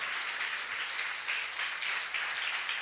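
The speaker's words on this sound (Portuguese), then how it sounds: "Vamos até aplaudir ao Senhor?" A church congregation applauding the Lord during a service, a soft, steady patter of many hands clapping at a distance, heard on its own.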